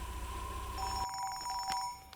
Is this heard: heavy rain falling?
no